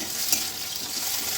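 Tomatoes dropped onto browned onions in a hot pan give a steady, close sizzle with faint stirring scrapes, brief and unbroken.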